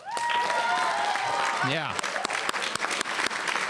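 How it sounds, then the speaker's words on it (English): An audience at a Fall 2021 convocation ceremony applauds in a dense, sustained burst with whistles and cheering. A voice speaks briefly as the clapping thins into scattered claps. "How about a round of applause from you for everyone in your family that brought you here?"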